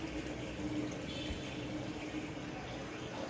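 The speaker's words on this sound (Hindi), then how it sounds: "जब तक योगेश इसका पानी भरता है, मैं ये पैरासिडोल डाल देता हूँ उसम" Water pouring into an indoor turtle pond, a steady low rushing fill that runs on evenly and moderately quietly, with no voices over it.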